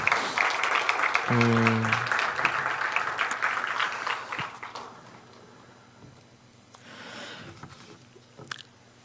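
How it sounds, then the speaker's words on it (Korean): Audience applause for four student presenters at a Sunday church youth event, a burst of clapping over the first few seconds that fades to scattered claps and room noise, with a low tone held briefly underneath. "우리 발표한 우리 네 학생 크게 한번 박수 다시 한번 해주시죠"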